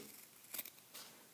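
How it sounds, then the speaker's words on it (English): Scissors cutting through fabric, a couple of faint, short crisp snips close by in a quiet room, separated by brief pauses. "I find scissors cut straighter than X-Acto knives when cutting fabric"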